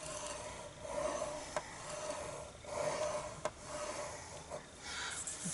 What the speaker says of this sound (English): at 1 inch you're going to score down until you hit the first score line